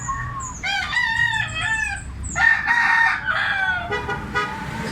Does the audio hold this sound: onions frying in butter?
no